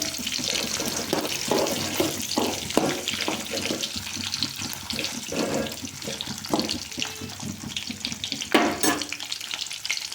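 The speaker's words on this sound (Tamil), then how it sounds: "இப்போ வந்து வெங்காயம் போடுறோம்." Onion fries in oil for upma and is stirred with a steady sizzle under repeated scraping and clattering strokes, close up, with no one speaking.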